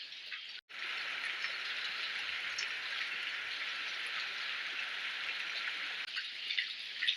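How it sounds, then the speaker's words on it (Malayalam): Steady, dense rain hisses outdoors without a break, a constant wash of drops that stays even for several seconds with no voices. "മഴയുണ്ടേ"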